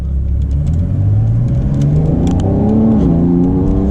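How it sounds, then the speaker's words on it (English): A base-model Porsche 992 911 accelerates, its exhaust droning and climbing in pitch with a brief dip partway through, loud and close with no talk over it. "You could really hear the exhaust on this car, which is great for just a base model."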